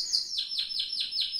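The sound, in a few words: songbird singing the metallic 'cascabel' song phrase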